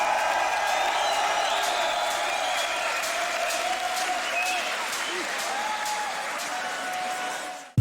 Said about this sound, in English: make some noise for Gene Shinozaki.